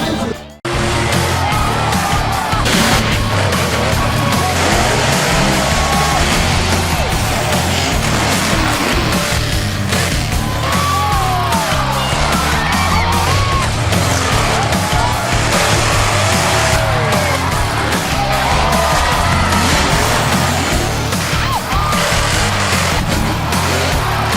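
Tough trucks race in a North vs South championship at the Warren County Fairgrounds in Front Royal, Virginia, with loud, sustained engine roar, revving and tire squeals over a long run and a voice now and then.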